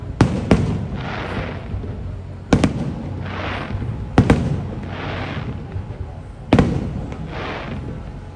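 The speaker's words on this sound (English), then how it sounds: "Fireworks from my room." Fireworks burst with sharp loud bangs, several in succession, each followed by a crackling fizzle and echo across open air.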